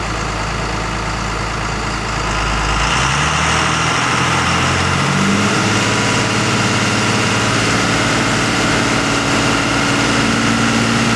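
A 12V Cummins diesel engine rises from a lower idle to a steady 1,000 RPM, a loud, close, continuous low rumble that holds evenly to the end with no talk.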